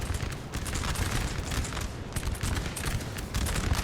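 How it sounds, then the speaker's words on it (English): Dense, continuous crackle of massed musket volleys from line infantry in Napoleon: Total War, with overlapping shots rolling on without pause for the whole stretch, loud and close. "Line infantry, you're shooting your own men as well."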